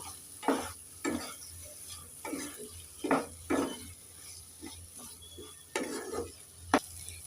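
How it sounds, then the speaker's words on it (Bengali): Fried potatoes with spices and amchur powder being stirred in a pan for a brinjal potato curry, a steady sizzle broken by several scraping stirs, close and clear with no talk. "এবার ভেজে রাখা আলু একটু নেড়ে ছেড়ে দিয়ে দেব"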